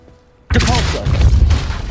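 A Depulso spell is cast in the video game Hogwarts Legacy: after a quiet moment, a sudden loud forceful blast erupts and carries into a sustained roaring, crashing rumble that fills the rest of the moment.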